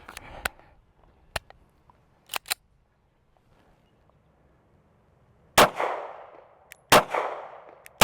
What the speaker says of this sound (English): So we're going to shoot to that and just kind of see what we end up with here.